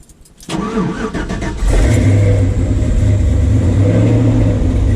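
An LS-swapped car engine cranks briefly and catches, then settles into a loud, steady close-up rumble as it keeps running.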